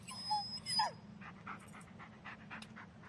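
Dog panting and whimpering in the Blair Witch horror video game, with short soft whines near the start and faint breathy panting over a steady low rumble, fairly quiet throughout.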